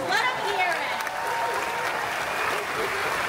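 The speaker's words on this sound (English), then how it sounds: "Let's give them another round of applause." An outdoor crowd at the 35th anniversary ceremony of Disney's Hollywood Studios at Walt Disney World claps in a dense, even burst with faint cheers mixed in.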